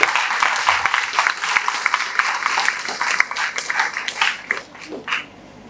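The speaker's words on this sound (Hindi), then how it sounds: "आप सबसे पहले अपने आप के लिए एक जरूर जोरदार ताली बजाएं" A crowd of students claps at a lecture hall address, a dense, steady patter of many hands that fades slightly toward the end.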